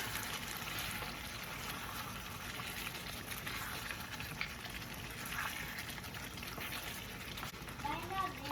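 Fat melting into mutton karahi gravy in a pan over high heat, giving a steady, soft crackling sizzle and bubbling that runs throughout at low volume.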